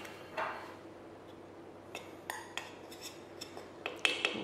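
A utensil stirs flour and baking powder into yogurt cake batter in a bowl, with quiet, irregular clinks and scrapes against the bowl and a few sharper taps near the end.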